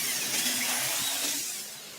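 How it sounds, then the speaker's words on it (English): A power drill fitted with a wide hole saw bores into green bamboo, giving a steady, high whining grind that holds for a couple of seconds before easing slightly, close and alone without talk. "Using a power drill equipped with a wide hole saw attachment guarantees a perfectly round cavity in the green bamboo."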